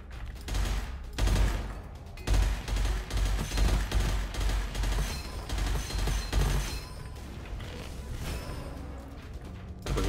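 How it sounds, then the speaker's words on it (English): Rapid gunfire bursts from a weapon in the shooter game Gunfire Reborn, loud and close, with clusters of shots and crashing impacts over a busy in-game soundscape. "That was a gun."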